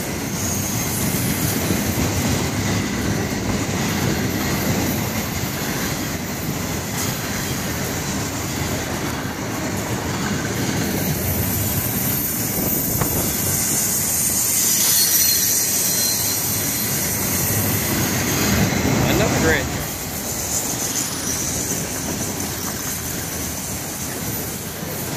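An FEC freight train, number 202 led by GEVO locomotive 803, rolls past in a steady, loud rumble and rattle of wagons that holds for the whole stretch, easing slightly near the end, with no voices.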